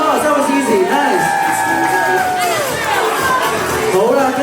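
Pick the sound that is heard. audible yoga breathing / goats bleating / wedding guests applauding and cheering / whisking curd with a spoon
wedding guests applauding and cheering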